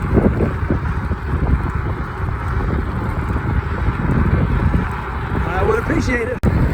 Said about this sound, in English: Wind is pretty strong, but it sure is nice.